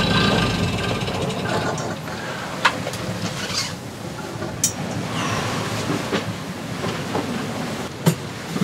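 A sailboat jib sheet winch ratchets in short clicking bursts, several sharp, separated clicks over a background of rushing wind and water, close by and with no talking.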